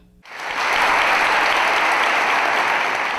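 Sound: applause from family and friends at graduation

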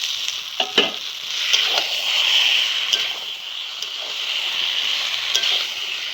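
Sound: vegetables and potatoes frying in a pan

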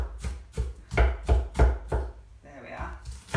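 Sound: chopping onion with a knife

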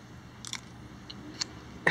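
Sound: chewing soggy nachos

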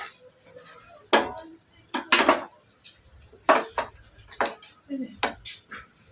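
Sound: stirring cooked kochu shak in a pan

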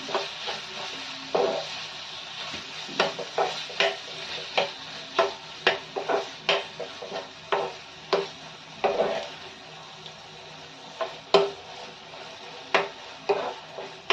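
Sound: sautéing cabbage and pea vegetable with grated paneer

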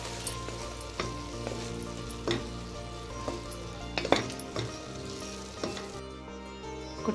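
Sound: stirring cooking gongura leaf mixture in a pan

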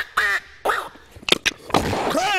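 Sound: voice imitating a duck quacking

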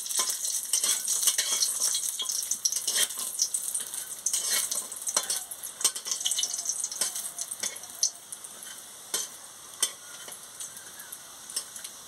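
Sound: lentil dumplings (bori) frying in oil

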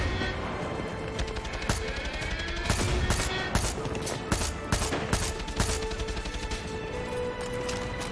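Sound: heavy turret gunfire in video game Far Cry 6

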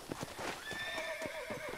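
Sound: horse neighing and hooves in video game

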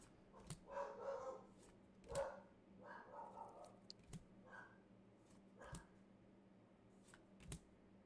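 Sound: dogs barking

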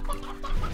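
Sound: chickens clucking in the video game Slime Rancher

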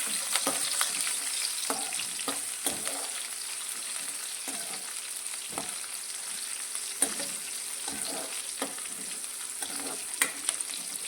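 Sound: capsicum pieces sautéing in hot oil

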